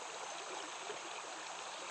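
A river current runs over stones in a steady, soft, continuous rush of flowing water, faint and even with no voices.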